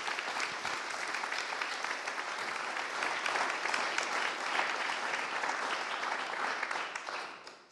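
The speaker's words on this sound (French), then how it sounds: "sous vos applaudissements." Audience at the French Abroad Trophies award ceremony applauding an education trophy winner, sustained dense clapping at moderate level that holds steady and then tapers off at the end.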